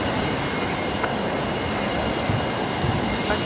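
A Qantas A380 airliner taxiing at Brisbane Airport gives a steady, broad jet-engine roar heard from a distance, with a constant high whine over it and no talk.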